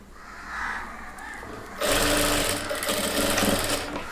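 Sewing machine stitching the drawstring tape opening on a chudidhar pant, starting softly then running loud and steady at close range for a few seconds.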